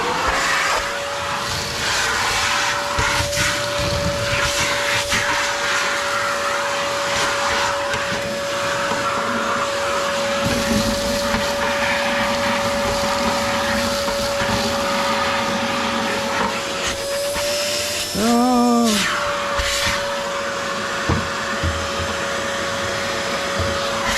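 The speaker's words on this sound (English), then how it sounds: "So I've got my vacuum set up. Let's have a little tidy up before we make any more mess." A vacuum cleaner runs continuously while tidying a Stovax Stockton 3 wood stove, giving a loud, steady whine with brief pitch shifts and rattles as debris is sucked up.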